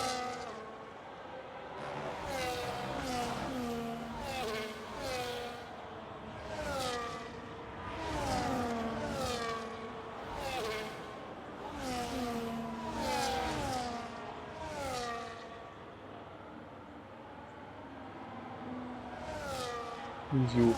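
Race cars on a formation lap, several engines overlapping in rising and falling whines that swell and fade steadily throughout, with a brief sharper burst near the end.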